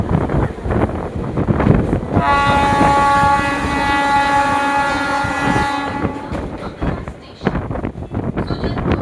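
Passenger train bound for Panskura junction, rolling on with steady rail rumble and wind buffeting, while its horn sounds one long, loud, sustained blast of several seconds mid-run.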